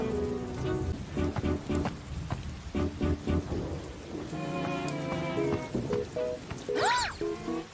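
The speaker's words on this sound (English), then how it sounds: "Now it's raining on just us." Steady rain pattering over a busy scene with music and tonal effects layered on top, the rainfall continuous and fairly loud throughout.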